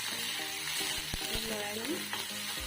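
Onion dropped into hot oil for a mushroom and cauliflower dish, a dense steady sizzle with sharp spatter pops and a few utensil knocks, close and without talk.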